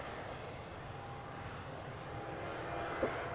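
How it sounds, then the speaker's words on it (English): Faint, steady jet-engine rumble at Manchester Airport as an aircraft is taxied into position, a distant even drone without any rise or fall. "it looks like they're just moving the aircraft into position now."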